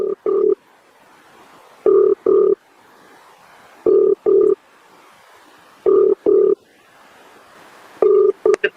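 Telephone ringback tone repeating on a call placed to a politician's phone: four evenly spaced double-pulse rings, clear and steady, with near silence between them and no voices.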